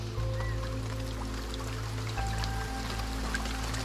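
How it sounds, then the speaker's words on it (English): Simulated rain in a Unity-built third-person shooter called Dream Machine makes a steady, soft patter and hiss of falling drops, continuous over a low background hum, without voices. "So if we can do rain."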